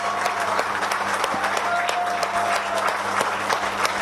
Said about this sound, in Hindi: मंगेश सर, जोरदार तालियां।